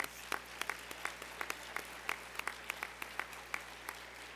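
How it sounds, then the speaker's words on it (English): A sparse plenary session audience applauds elected board members, a faint scattering of individual claps with distinct sharp hits over a steady low hum. "Let's give them a round of applause."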